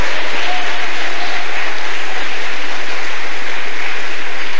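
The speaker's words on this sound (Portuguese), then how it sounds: "Pode louvar Jesus com as palmas." A church congregation clapping in praise at an evangelical service, a dense, steady wash of many hands sustained throughout, fairly loud and with no talk over it.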